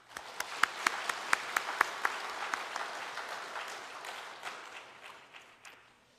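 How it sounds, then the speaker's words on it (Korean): A church congregation applauds the choir during an Easter Sunday service, starting with a handful of sharp separate claps that merge into steady applause, then thin out and fade. "박수 한번 쳐주십시다"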